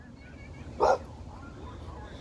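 A dog in a big park gives a single sharp bark, moderately close and brief, standing out against quiet outdoor background noise.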